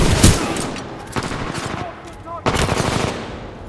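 Rapid automatic gunfire in the video game Titanfall 2, several loud close bursts with brief gaps between them and faint voices underneath.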